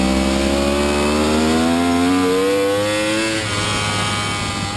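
A race motorcycle accelerates hard out of a track corner, its loud, close engine climbing steadily in pitch as the throttle opens, then easing off slightly near the end.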